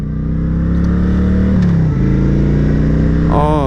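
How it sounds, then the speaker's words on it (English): A V2 motorcycle engine idling close by with a deep, throbbing, steady rumble, then a brief blip of throttle near the end; a man gives a short exclamation. "Listen to that V2."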